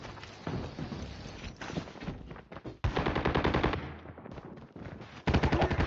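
Shotgun fire from the mobile game Call of Duty Mobile comes in loud, rapid bursts of shots with short gaps between volleys. The game sound is close and fills the clip, with no talking.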